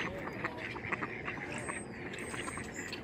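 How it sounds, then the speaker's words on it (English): Ducks at a mountain lake quack in a busy, overlapping chorus of short calls, moderately close, with faint outdoor background noise. "Oh, these ducks are getting loud over here."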